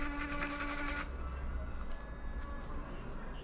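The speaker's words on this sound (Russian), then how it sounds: "В данной электрической зубной щетке очень крутая технология" A steady high-pitched electric toothbrush motor whine, loud and close for the first second, then a quieter continuing buzz with faint clicks.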